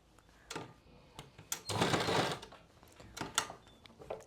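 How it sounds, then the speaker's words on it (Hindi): A sewing machine stitches a pocket onto palazzo pants in short bursts of whirring needle runs. One longer run sits in the middle, separated by brief clicks and pauses, close and moderately loud. "अब इसी शेप में हम सिलाई लगाएंगे, ऐसे करके संभालते जाएंगे और सिलाई लगाते जाएंगे।"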